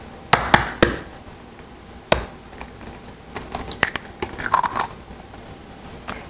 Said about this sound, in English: Now we'll add 1 egg.